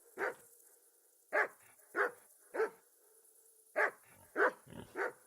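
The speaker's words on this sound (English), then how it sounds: "barking in the background" A dog barks in short separate bursts, seven or so loud barks with pauses between them, in a video game set in medieval Bohemia.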